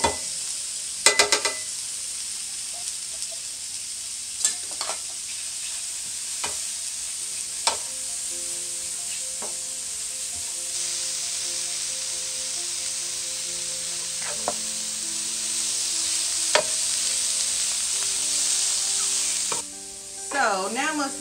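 Canned mushroom stems and pieces sizzle steadily in a pan for a vegan plant-based spaghetti sauce, a loud continuous hiss broken by clanking stirs and scrapes, with no talking.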